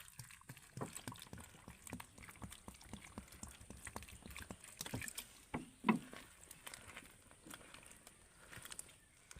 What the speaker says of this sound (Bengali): মাছগুলোকে এবার আমি জল দিয়ে ভালো করে ধুয়ে নেব